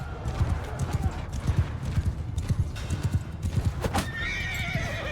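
Horses gallop and whinny during a Realm of Thrones battle in a video game, with rapid drumming hoofbeats up close and a sharp neigh near the end, while a voice talks over the charge.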